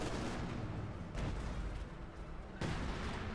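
Big explosions and artillery blasts in Company of Heroes 2, heard distant and muffled as broad booming bursts that swell twice over a constant roar of battle noise.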